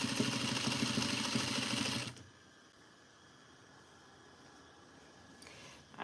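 A sewing machine runs steadily for about two seconds, stitching a seam on a duster made from the Simplicity 8059 pattern, then stops and leaves quiet room noise.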